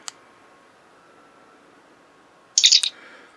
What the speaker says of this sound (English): you hold the button down to turn it on. It'll have the chirp